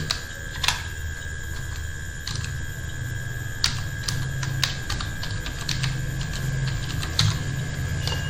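Keystrokes on a computer keyboard as a new password is entered, sparse irregular clicks with pauses between them, heard over a steady low hum and faint background noise.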